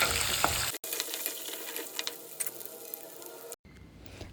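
Chopped green chillies and curry leaves fry in a pan for street-style noodles, a dense crackling sizzle with small pops, cut off abruptly twice.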